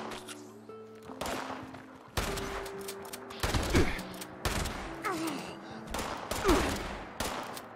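Gunfire in the video game Fallout 76 rings out in repeated loud bursts and volleys, with sharp cracks clustered across the whole stretch and a brief quieter gap near the start.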